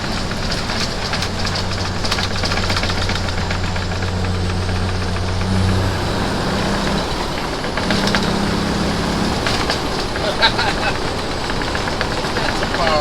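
A diesel truck with a new injection pump and a 350 big cam engine on a test drive, giving a steady, loud engine drone with knocking texture and a low hum that shifts pitch. Voices are heard over it.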